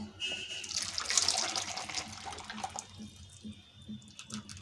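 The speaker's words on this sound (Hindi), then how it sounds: "तो मैं इसको बाउल में पलटती हूँ" Thick homemade custard poured from a pan into a serving bowl, a soft wet sliding and splattering pour that swells then tapers into scattered drips and small plops, close and alone.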